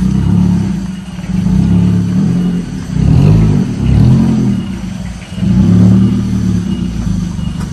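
Used car engine during a test drive on a road, a loud, close, steady hum with rising and falling revs as the car accelerates, no talk over it.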